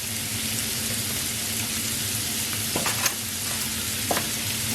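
Tiny seasoned shrimp stir-fried in a pan keep up a constant, close sizzle, cut by a few sharp scrapes and clacks of a utensil moving them around, with no voices.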